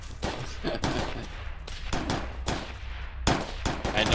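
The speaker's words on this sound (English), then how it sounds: "We're not actually shooting them, we're shooting the ground." Video game gunfire strikes the ground in rapid, irregular bursts, loud sharp cracks and rattling volleys with brief gaps between them, close and unaccompanied by speech.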